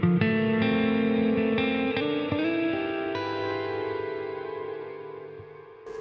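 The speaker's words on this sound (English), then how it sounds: "Because it will change the pitch of the reverb." Sustained guitar notes wash through a thick, pitch-shifted reverb from an EarthQuaker Devices Astral Destiny pedal, each strum swelling into a shimmering, drifting tail.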